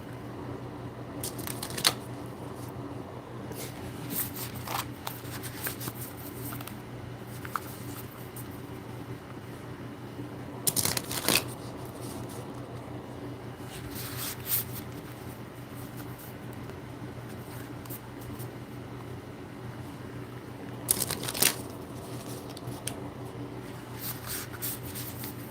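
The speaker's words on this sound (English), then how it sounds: "See if I can shuffle it so you can see it." Quiet room tone broken by a few short bursts of riffling paper: cards being shuffled, three quick ripples spaced well apart.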